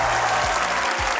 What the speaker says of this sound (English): Everybody in this crowd, make some noise for both of our competitors!